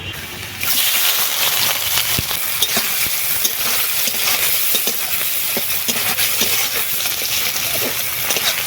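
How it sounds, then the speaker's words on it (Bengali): Prawns sizzle loudly in hot oil in a wok with fried onions and panch phoron, and a spatula stirs them in a steady scraping rhythm. The frying stays close and continuous throughout. "এবারে দিয়ে দিচ্ছি চিংড়িগুলো"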